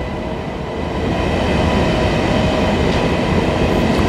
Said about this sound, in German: der Frankfurter ICE ist auch schon Ausfahrt